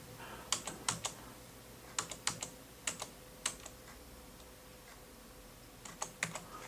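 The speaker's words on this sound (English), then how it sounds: "here I'm going to type the student's ID number" Keys on a computer keyboard are tapped in short clusters to enter a student ID number, with crisp clicks separated by pauses in a quiet room.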